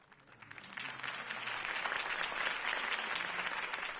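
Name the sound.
crowd applause after a campaign speech, video game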